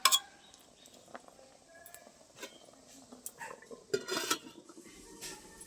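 A metal lid set onto a cooking pot of pui shak (Malabar spinach) with fish roe, giving a few light clinks and clatters among quiet kitchen sounds, with a louder clank near the end.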